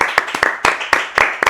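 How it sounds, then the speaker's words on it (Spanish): A small group claps for an interview guest, brisk, close hand claps in an irregular rhythm lasting under two seconds. "Fuerte aplauso."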